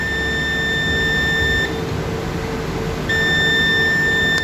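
A faulty HP all-in-one PC board with a PCH fault gives off a steady high electronic beep that stops for about a second and a half, then resumes over a constant background hiss.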